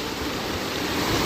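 Rushing water surges in waves at Qurbon Ko'l lake in Shohimardon, a loud, steady, close roar with no voices.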